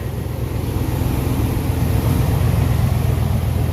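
Close and loud, a running lawnmower engine holds a steady, even idle throughout with no speech over it.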